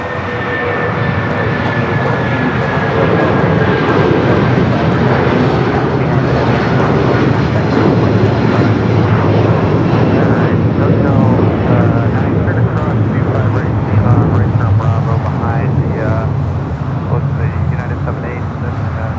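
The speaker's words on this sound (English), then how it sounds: "Dreamliner. This flight came in from Hong Kong." Boeing Dreamliner jet, arrived from Hong Kong, taxiing at Los Angeles airport, giving a loud steady engine roar and whine that stays close and continuous throughout.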